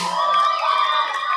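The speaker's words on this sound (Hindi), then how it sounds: "ताली बजा सकते, वी डू इट टुगेदर" A wedding crowd at a nikah in Andheri East cheers, whoops and shouts for the couple's entry, a loud sustained roar of many voices close by.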